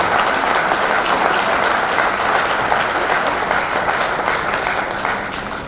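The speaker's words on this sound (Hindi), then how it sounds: "जरा तालियां बजाकर उनका स्वागत करें।" A ceremony audience claps steadily and loudly to welcome the chief guest, a dense sustained applause that stays even throughout and eases slightly at the end, with no voices on top.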